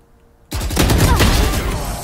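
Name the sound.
gunfire in the video game Valorant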